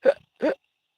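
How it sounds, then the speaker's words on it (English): Two sharp hiccups in quick succession from a man, close and clear, with a brief pause between them and silence after. "hiccups."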